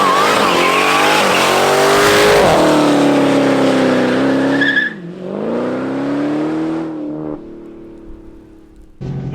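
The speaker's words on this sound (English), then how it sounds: "Let's go on throttle together in the Black Ghost." A 2023 Dodge Challenger Black Ghost in track mode accelerating hard on throttle, heard as a loud, close engine roar climbing through the revs, dipping at a gear change and rising again, then easing off near the end.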